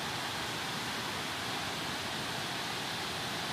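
Heavy water roars steadily over the spillway of the Gargalheiras reservoir in Rio Grande do Norte, a dense, unbroken rushing wash heard from a distance with no voices.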